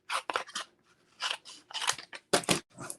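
Scissors snip through paper in a quick series of crisp, close cuts during a card-making and die-cutting session, quiet and without talk.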